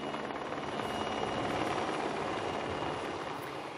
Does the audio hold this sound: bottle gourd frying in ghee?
no